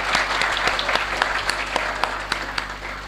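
An audience at an orientation ceremony applauds: a steady wash of clapping with a few sharper individual claps standing out, over a constant low electrical hum.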